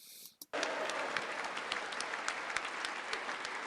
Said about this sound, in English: Okay, they're clapping.